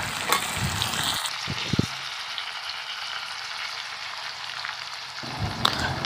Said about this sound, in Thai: แล้วกวนคลุกเขาให้เข้ากัน